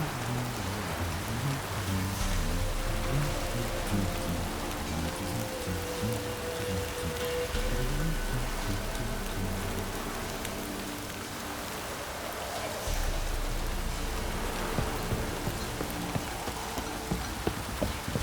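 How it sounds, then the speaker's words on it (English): Heavy rain pours steadily in a wet outdoor scene of The Witcher 3: Wild Hunt, a dense continuous hiss of drops on surfaces, with faint hoof clops and low ambient rumble underneath throughout. "This downpour's a bastard, it is."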